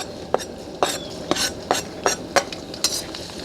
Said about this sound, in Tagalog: At dahil napakainit na, ilagay na po natin ang bawang.